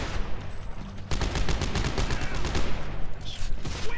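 Rapid automatic gunfire from a weapon in the video game Dead Space 3, heard as loud, close bursts of fast shots over a noisy, busy combat background, with a faint voice in the mix.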